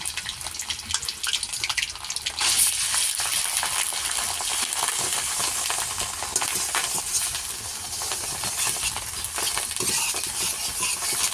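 Mustard seeds sizzle and fry in hot mustard oil, with ginger and garlic added, a steady dense crackle running throughout, close and fairly loud, with stirring.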